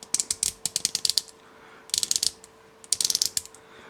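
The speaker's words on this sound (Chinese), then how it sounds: "里边装着 FT 最擅长的棘轮，拧起来咯嘣咯嘣的" Ratchet joints of a Fans Toys FT-57 transforming robot toy are twisted in three quick bursts of crisp, close clicks, each a rapid run of tight ratcheting snaps separated by brief quiet.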